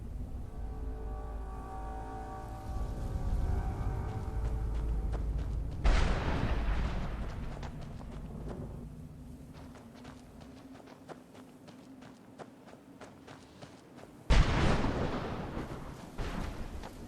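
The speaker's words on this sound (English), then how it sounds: "Or thunder, rather." Thunder in Skyrim: a deep, low rumble rolls on for a while, then two sharp cracks strike several seconds apart, each fading into a long grumbling tail, with no voices.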